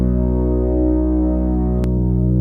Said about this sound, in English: I'm going to take his synth pads, which sound like this.